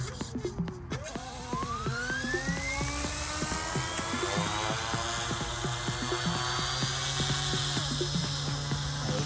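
Goosky Legend S2 RC helicopter flying in normal mode on its first flight, a steady high-pitched rotor and motor whine with rising and shifting tones, close and continuous for the whole stretch.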